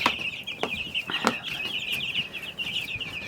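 Chickens cluck and chatter together in a busy, overlapping flock, close by, with a few sharp taps or pecks mixed in.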